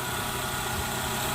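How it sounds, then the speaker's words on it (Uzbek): A Daewoo Matiz engine, freshly repaired, idles evenly and continuously with a dense, steady rumble and hiss close to the microphone, with no voices. "Motorlar bir tekisda ishlayapti mana."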